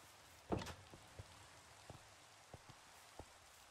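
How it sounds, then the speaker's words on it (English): Steady rain patters in a Minecraft modpack world, a soft continuous hiss broken by a few louder isolated drop-like thunks, the first near the start and the rest scattered at intervals. "it literally just started raining right before this"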